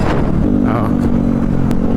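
A motorcycle exhaust drones and revs close by while riding through Quezon City traffic in Metro Manila, with rising engine harmonics steady throughout and a muffled voice over it.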